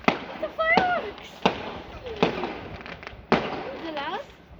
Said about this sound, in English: It's the fireworks!